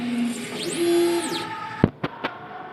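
A DTF printer runs a nozzle check: a steady electronic hum and a sweeping whine from the print head carriage, then a few sharp mechanical clacks as it stops.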